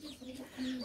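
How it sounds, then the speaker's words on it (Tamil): A backyard country rooster kept at a home gives short soft clucks, a brief run of low throaty notes heard fairly close and alone. "பார்த்திங்கன்னா இதான் நம்ம வீட்டில் இருக்க சேவல்."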